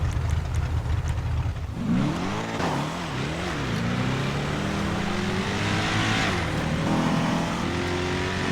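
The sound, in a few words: Chevrolet Monte Carlo car engine in video game GTA 5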